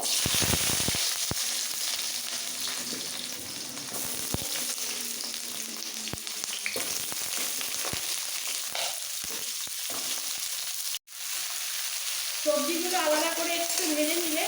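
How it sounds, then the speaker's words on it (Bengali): Potato and pointed gourd pieces frying in hot oil in a wok: a loud, continuous sizzle with scattered spits and a brief dropout near the end before the crackle resumes. "তেল গরম হয়ে গেছে দিয়ে দেবো পটল আর আলু"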